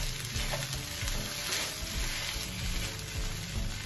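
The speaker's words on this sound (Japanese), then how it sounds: "卵を溶いてですね、こちら入れちゃいましょう。 こちらに卵を入れて、さらに強火で、" Beaten eggs stir-fried over high heat for Thai fried rice give a loud, dense, unbroken sizzle with muffled stirring underneath, close and without voices.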